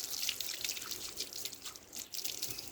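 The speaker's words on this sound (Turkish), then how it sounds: "Kafanı iyice durulayalım" Water rinses a golden retriever's head during a bath, a steady close hiss of spraying and splashing water that runs throughout.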